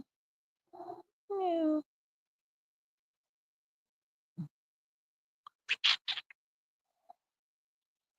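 A house cat meows a few times, short calls with one longer rising-falling meow near the start, then scattered faint sounds and a brief quiet word from a person.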